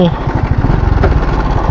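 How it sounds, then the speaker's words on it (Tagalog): A motorcycle engine with a failing, bad-sounding motor idles with a rough, uneven sputter, close by and fairly loud, with a voice speaking over it. "masama yung tunog ng makina ko"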